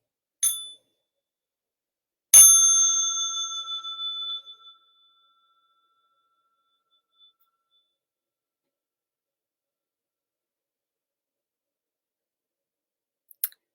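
A small bell used for stretching and massage during a mindfulness session is struck once briefly, then struck again with a bright, clear ring that decays over about two seconds in near silence. A faint tap follows much later.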